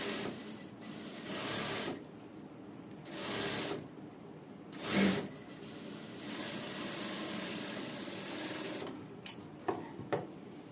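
A sewing machine stitches a princess-cut padded blouse in short mechanical bursts separated by pauses, at moderate level, with a few sharp clicks near the end and no talking.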